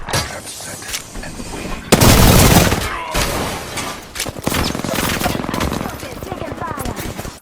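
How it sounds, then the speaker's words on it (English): Rapid automatic gunfire in Apex Legends, close and loud, with sustained bursts and a heavy volley near the middle, continuing in rattling strings amid game noise. "I began taking some gunfire from behind"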